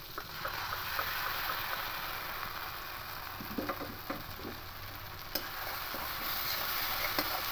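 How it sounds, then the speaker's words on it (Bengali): Mustard and green chili paste sizzle in hot oil for a fish curry, a continuous moderate hiss with soft scraping and stirring sounds throughout. "এই সময়তে সর্ষে আর কাঁচা লঙ্কা পেস্টটা দিয়ে দেবো।"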